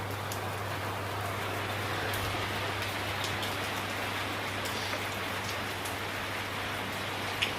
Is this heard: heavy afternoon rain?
yes